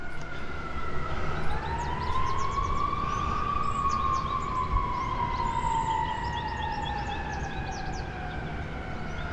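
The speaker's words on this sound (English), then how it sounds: "I hear sirens and everything coming in here." Emergency vehicle sirens wail steadily in the distance, a rising and falling tone sustained throughout over a low background rumble, with no talking.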